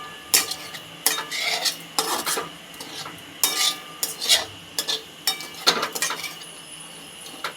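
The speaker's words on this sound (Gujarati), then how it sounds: "હલાવી દેવાનું છે." Spoon scraping and stirring sabudana khichdi in a pan, a run of close, uneven clinks and scrapes of metal on metal with a faint sizzle beneath, no talking.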